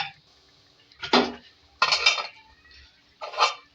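A chicken Mughlai curry with chopped coriander mixed in a pot, three or four brief bursts of spoon scraping and clinking against metal separated by quiet pauses, close and clear.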